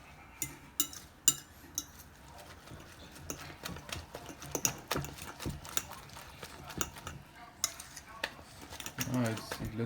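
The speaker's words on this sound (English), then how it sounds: "Now, gonna mix it all together." Eggs for an omelette are being mixed with a utensil in a bowl. The metal makes irregular clinks and scrapes against the dish, fairly quiet, with occasional sharper taps spread throughout.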